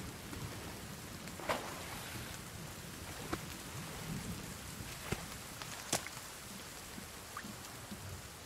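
Rain falls in The Forest video game as a steady, soft hiss of downpour, with a few faint scattered ticks and drips standing out over the continuous wash.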